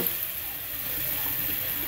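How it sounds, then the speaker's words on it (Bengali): Spices stirred and frying in a pan make a dense, even sizzle that holds steady and close throughout, with no talking over it. "আমি এগুলো একটু ভালোভাবে নেড়ে চেড়ে দিচ্ছি। এরপর মশলাগুলো কষিয়ে নিতে হবে।"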